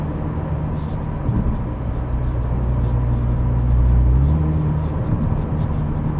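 A 2023 MINI Clubman JCW F54 in sport mode cruises at steady speed, then the engine note climbs into a rising, droning acceleration heard from inside the cabin over road noise.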